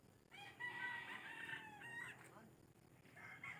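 A rooster crows nearby, one long drawn-out cock-a-doodle-doo, followed by a shorter second crow starting at the end.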